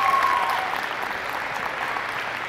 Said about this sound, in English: let's give all of these 8 athletes and their parents a big round of applause